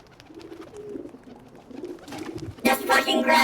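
A pigeon in a video game gives soft, low repeated coos, fairly close, before a sudden loud burst of flapping noise at the end.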